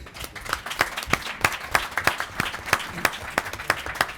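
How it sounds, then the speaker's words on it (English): A round of applause for Airbus and Rolls-Royce at an aircraft order announcement comes as a fairly sparse, rhythmic patter of distinct claps from a modest crowd, steady throughout. "I want to give a round of applause to Airbus and Rolls-Royce."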